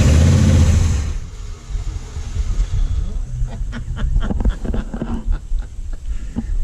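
A 1978 limited edition Plymouth V8 barn find revs under throttle, first a loud low roar that drops away, then uneven rumbling bursts and clatter, close up.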